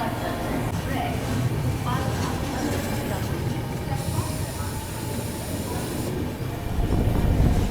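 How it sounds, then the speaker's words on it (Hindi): Rumble of the Madgaon Rajdhani Express moving off from a station, heard from inside a 3AC coach: a steady loud rolling drone with hiss and rattling that builds slightly toward the end. "बस 3 मिनट का हॉल्ट लेने के बाद हमारी ट्रेन का यहाँ से प्रस्थान हो चुका है।"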